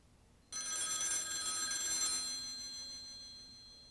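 Office telephone in The X Files PC video game, an old-style bell ring that starts abruptly with a bright metallic trill, then decays slowly over a few seconds, heard alone and fairly quiet.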